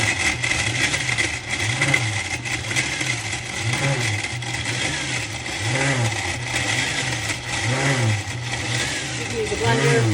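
A blender grinds dried avocado seed into powder, giving a loud, continuous motor whir with rhythmic pulsing rises and falls as the pieces tumble and break down.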